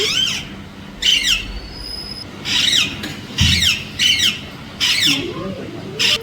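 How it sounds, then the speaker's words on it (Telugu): A parrot perched in a large guava tree gives repeated loud, harsh squawks in short bursts about once a second, with a faint low background hum between calls. "ఒక పెద్ద జామ చెట్టు ఉంది దానిపైన ఒక చిలుక అయితే వాలి ఎలా సందడి చేస్తుంది చూడండి"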